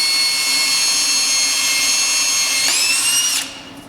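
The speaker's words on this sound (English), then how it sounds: "I'm going to drill a hole all the way through." A power drill boring a hole straight through a piece for a hoop game, so a string can pass through. It whines steadily and loudly, its pitch rising briefly near the end before it cuts off.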